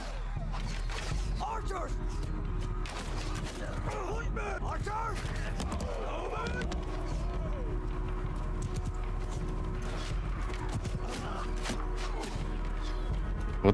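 Horses clip-clopping and galloping across a battle in Mount & Blade II: Bannerlord, with a steady busy din of hooves, creaks and mechanisms throughout while someone talks over the action.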